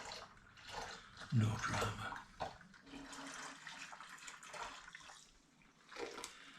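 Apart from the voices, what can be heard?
pouring rhubarb cider liquid from a pan into a Muntons wine fermenter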